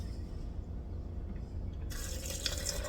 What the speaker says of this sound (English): then we're going to top off with water